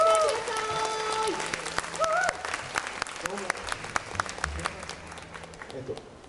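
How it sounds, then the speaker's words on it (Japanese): A crowd claps steadily after a brief stretch of tones and voice as a jazz quartet takes the stage at a live show inside JR Sendai Station, applause continuing with scattered sharp claps to the end. "どうぞ大きな拍手でお迎えください。"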